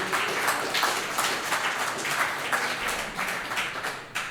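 Applause from attendees at a Town of Saint Andrews regular council meeting, a sustained burst of many hands clapping with uneven rhythm, moderately loud across the room and fading slightly near the end.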